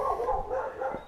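Dogs barking in a residential hillside neighborhood without gates at Fort Tyson, St. Kitts, a steady run of overlapping barks at moderate distance with no talk.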